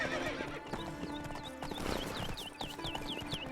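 A horse in The Witcher 3 neighs and whinnies while its hooves clip-clop in a steady gait, with game ambience underneath and no talking.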